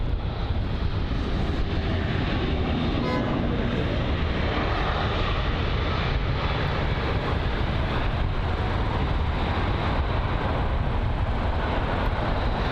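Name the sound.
Iberia Airbus A320neo aircraft at Heathrow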